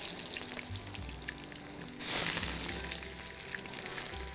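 Chopped onions hit hot oil in a pan and fry with a steady, close crackling sizzle that swells louder for a moment partway through.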